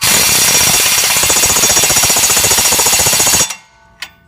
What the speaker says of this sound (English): Probably going to hit it with the impact just to get it good and tight.